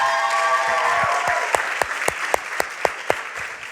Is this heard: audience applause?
yes